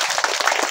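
Audience applause at a BNP union committee discussion meeting, a short, dense patter of many hands clapping, fairly loud and close, with no one speaking over it.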